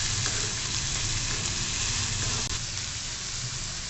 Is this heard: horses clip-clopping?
no